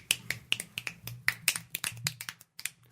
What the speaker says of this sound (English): Nice finger snaps.